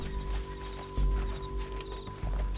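Horse hooves in Red Dead Redemption 2 gameplay, a rhythmic clip-clop of galloping strides thudding close and heavy, repeating at an even pace over a low background.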